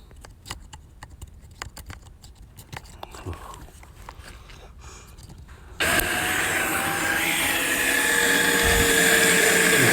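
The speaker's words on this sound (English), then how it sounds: "One is making a lot of noise, the gearbox." Electric drive motors on a Gator HPX utility vehicle start up partway through, with a noisy gearbox adding a loud, steady whine and drone after earlier faint clicks and taps.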